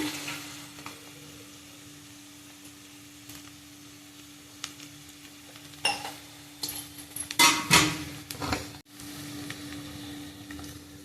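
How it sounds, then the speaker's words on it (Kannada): Onions frying in a pan for matar paneer, a low steady sizzle that swells near the end with sharp clinks and scraping of a spoon stirring against the metal. "ನೋಡಿದ್ದು ಚೆನ್ನಾಗಿ ಫ್ರೈ ಆಗಲಿ ಫ್ರೈ ಆದಷ್ಟು ಚೆನ್ನಾಗಿರುತ್ತೆ ಈರುಳ್ಳಿ ಆಗಲಿ"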